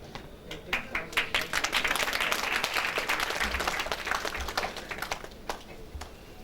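Audience at a school graduation ceremony breaking into sustained applause, a dense wash of many hands clapping that swells and then gradually thins out over several seconds, heard from within the hall.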